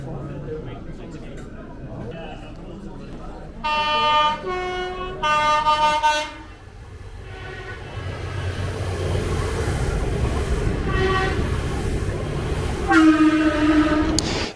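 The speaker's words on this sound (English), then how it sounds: "people in this area who live nearby just kept hearing train horns" Several loud train horn blasts sound in short bursts, then again later, over a steady rumble of a passing train.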